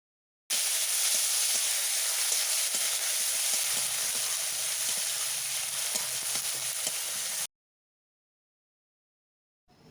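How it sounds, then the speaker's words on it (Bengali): Chopped tomatoes fry in a pan over onions, giving a steady close sizzle with occasional stirring scrapes for about seven seconds before cutting off to silence. "টমেটো কুচি দেওয়ার পর ভালোভাবে নাড়াচাড়া করে ভেজে নেব"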